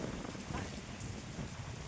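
Heavy rain pours steadily around a railway bridge, a dense, continuous wash of drumming and hiss close by with no break.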